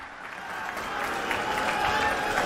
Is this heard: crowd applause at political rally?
yes